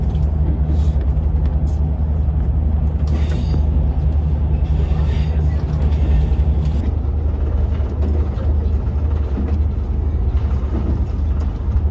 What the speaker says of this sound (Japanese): 特急湯布院の森号はやや速度を落として滝の横を通過して行きました